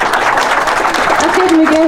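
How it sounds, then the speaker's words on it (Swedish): Audience applause for a contestant at a burger-cooking final, steady clapping throughout, with a voice rising over it near the end. "Ge en ordentlig applåd nu."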